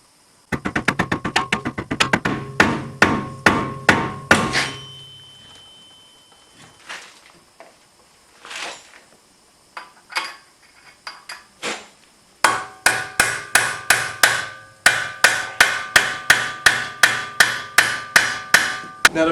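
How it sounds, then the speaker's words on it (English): A rubber mallet strikes a BMW E46 AWD front steering knuckle to separate it from the shock. Rapid, evenly spaced dull thuds come in two long bursts, with scattered knocks and shuffling in a quieter middle stretch. "gently persuade the steering knuckle to separate from the shock with a rubber mallet"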